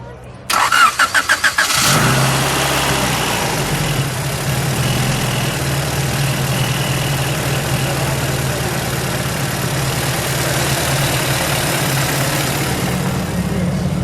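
A 1999 Honda Civic SiR engine cranks briefly with a rapid churning whir, then catches and settles into a steady, loud idle rumble that continues to the end.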